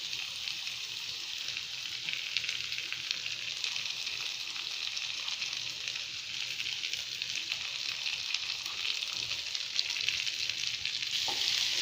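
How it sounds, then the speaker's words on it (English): Ginger and vegetables sauté in a pan for momo filling, giving a steady, even sizzle that fills the whole stretch at moderate volume with no voices. "Now saute it well so that the raw fragrance will be gone."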